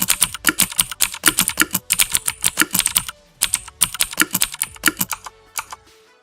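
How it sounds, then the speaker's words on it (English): A mechanical keyboard with Cherry MX Blue switches and ABS keycaps types out rapid bursts of sharp, clicky keystrokes, loud and close, with a short pause in the middle and no voices. "these are the blues with ABS"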